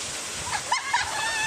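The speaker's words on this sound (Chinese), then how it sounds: "溪水拍打山壁发出哗啦啦的声响" Clear mountain stream pours down a scenic gorge like a water curtain and splashes against a rock wall, a steady broadband rush with a voice speaking over it.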